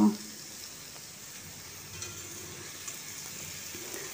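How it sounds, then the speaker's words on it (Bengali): Soft, steady sizzle of banana stem and ridge gourd cooking in a pan over low to medium gas heat, with light stirring, quiet and close, no voices. "আমি এরপর খুব ভালোভাবে মিশিয়ে নিচ্ছি। তারপর গ্যাসের আঁচকে লো আর মিডিয়াম করে আমি আস্তে আস্তে 5-7 মিনিট সময় ধরে ধীরে ধীরে আমি রান্নাটা করে নেব।"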